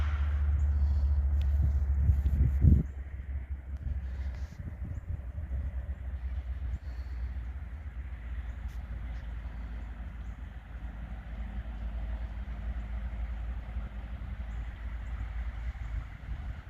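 A railway locomotive idles on the tracks with a steady, heavy low rumble and one brief thump near the start, with no voices.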